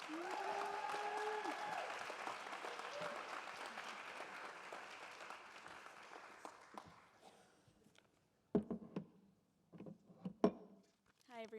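A keynote speech audience claps in sustained, dense applause that gradually thins and fades out. A few scattered knocks and shuffles follow in the quiet afterward.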